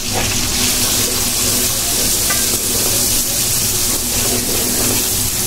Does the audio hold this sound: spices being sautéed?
yes